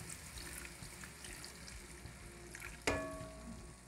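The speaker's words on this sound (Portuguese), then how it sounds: "A gente vai largar uma aguinha agora" Water is poured into a pan of frying beef rolls (bife a rolê), bringing a sudden hiss and sizzle over steady background frying noise near the end.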